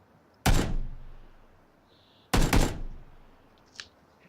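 Two loud, close gunshots from PlayerUnknown's Battlegrounds ring out about two seconds apart, each with a booming decay, followed by a faint short tick.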